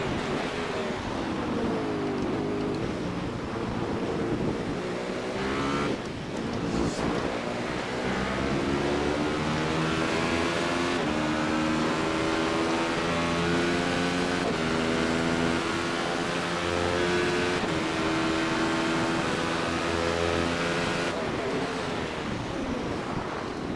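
A Radical race car engine screams in-car at Interlagos, a loud sustained wail with rising harmonics as it accelerates out of a corner, dropping briefly on gear changes, with heavy wind rush over it and no talking.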